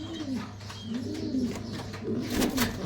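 King pigeons coo in a pigeon shop, giving soft, rolling, repeated coos over a steady low hum, with light rustling and a clatter near the end.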